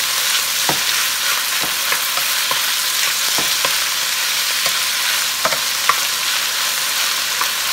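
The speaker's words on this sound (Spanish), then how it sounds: "por ahí está el pollo. Ya se está cocinando." Chicken pieces frying steadily in a pan, a dense continuous sizzle with occasional sharper pops and crackles, close and fairly loud, with no voices.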